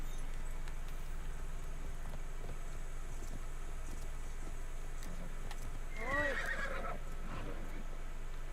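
A horse in the video game Assassin's Creed Shadows on PS5 gives a clear neighing whinny late on, preceded by faint scattered hoof clops over a quiet ambient background.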